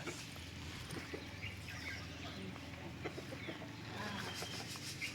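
Chickens clucking close by in a farmyard while people chase them, a busy mix of short fowl calls under steady background noise.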